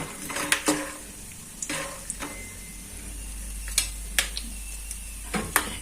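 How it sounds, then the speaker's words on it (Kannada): A spoon stirs spice powder into a puliyogare tamarind-rice mix in a hot pan, a low sizzle running beneath. Sharp scrapes and taps of metal on the pan come at irregular intervals, close and clear. "ಆಮೇಲೆ ಪೌಡರ್ನ ಹಾಕಿ ಮಿಕ್ಸ್ ಮಾಡಿ"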